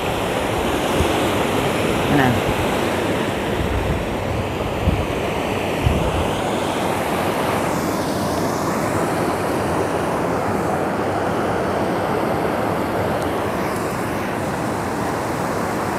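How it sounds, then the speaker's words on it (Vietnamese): A rocky mountain stream, Suối Đá Giăng at Hòn Bà in Khánh Hòa, rushes in a steady, loud wash of water close by, with a brief spoken remark over it. "Chỗ đây có một cái suối nó chảy cũng đẹp đó"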